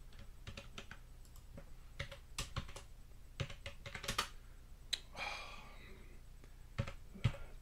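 Computer keyboard typing in the vi editor while setting up a self-signed SSL certificate for Apache2 on Debian: quick, irregular clusters of close, crisp keystrokes with brief pauses and soft breathing, no talking.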